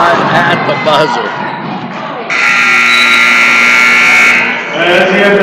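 A loud, sustained game-end buzzer sounds for about two seconds in a high school basketball gym, cutting in between an announcer's commentary and crowd noise.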